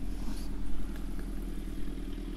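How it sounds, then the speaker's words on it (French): Tractor engine passing close by outdoors, a steady loud rumbling drone with some clatter that holds throughout, no talk over it. "Alors le tracteur, il va passer, tu vas pouvoir répondre."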